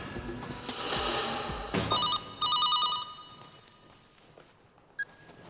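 An older-style telephone rings in short bursts of electronic trilling, moderately loud, followed by a single brief beep after a pause, with faint background noise.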